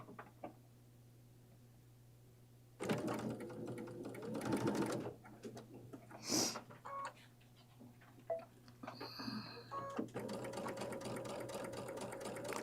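A home sewing machine threaded with red thread stitches at medium speed, whirring in steady bursts separated by short pauses, with small mechanical clicks and taps between runs.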